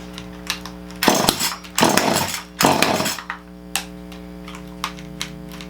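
Echo CS-2511t top-handle chainsaw pulled over and running, three loud roaring bursts over a steady idle with a mains-like hum, plus sharp clicks, close by and with no talking.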